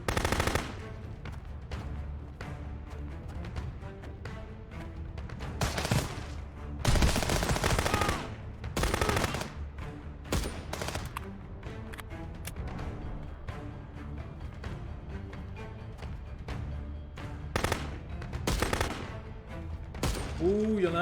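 Gunfire in the video game Contraband Police during an assault on ruins: loud, repeated bursts of rapid automatic shots alongside single cracks, returning in waves for about twenty seconds.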